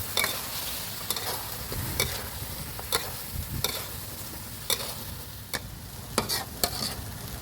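Catfish that has already been fried is stir-fried in a hot wok with eggplant and green and red chillies, under a steady sizzle broken by sharp, irregular scrapes and clacks of the spatula.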